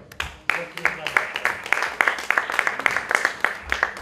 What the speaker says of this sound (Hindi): थोड़ा सा तालियां अच्छे से बजा चाहिए सभी लोग बजाते हैं,